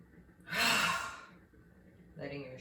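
A long breathy exhale sighed out while releasing the shoulders in a yoga stretch, swelling loud and then fading, with a softer breath following near the end.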